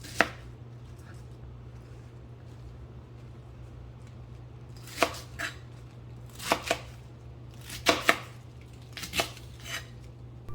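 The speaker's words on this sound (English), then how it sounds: "you're going to start out by taking a medium head of cabbage and just rough chopping it" A knife rough-chops a medium head of cabbage on a cutting board, about ten crisp, sharp chops spaced irregularly, some in quick pairs, close and clear against a quiet kitchen background with a low steady hum.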